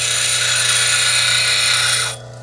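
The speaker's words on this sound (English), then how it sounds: "it won't take long just to grind this down" A lapidary grinder grinding down a piece of calcite gives a loud, steady, continuous whir with a bright abrasive hiss, then cuts off abruptly near the end.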